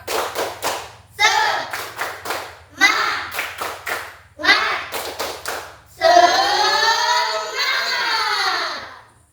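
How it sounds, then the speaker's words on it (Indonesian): A classroom of students doing a rhythmic spirit clap, crisp patterned bursts of hand claps, with the group chanting in time and then ending in a loud shouted cheer. "Marilah kita tepuk semangat dulu, oke?"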